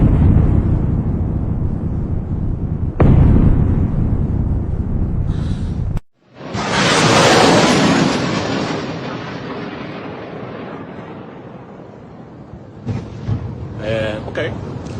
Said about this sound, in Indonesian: beberapa rudal yang diluncurkan Iran diduga membawa amunisi tandan atau cluster munition.